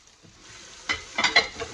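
Korean-style pancake with shrimp crisping in a hot pan, a soft sizzle that builds into a few sharper bursts of spitting and crackling near the end, heard up close with no talk.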